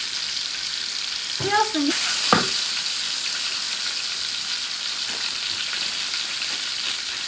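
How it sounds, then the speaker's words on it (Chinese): Food stir-fried with seasonings sizzles in a hot wok, a steady hiss with a couple of sharper clatters from the utensil near the middle, and a brief spoken remark over it. "主要还要你把它炒香，你还要把它炒香。"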